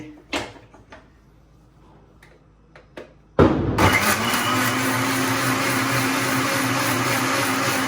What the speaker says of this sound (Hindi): अब हम इसको बंद करते हैं और मिक्सी को चलाएंगे।